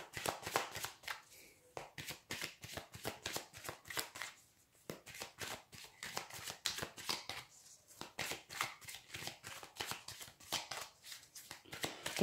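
Cards for a tarot-style reading being shuffled and drawn, a steady run of rapid papery riffles and flicks close up, continuing almost without pause.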